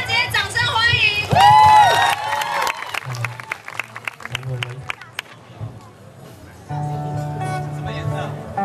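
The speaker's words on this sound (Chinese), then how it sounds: "大家直接掌声欢迎" A live audience applauds and cheers, a dense patter of clapping rising and falling for several seconds, mixed with crowd chatter and voices close by.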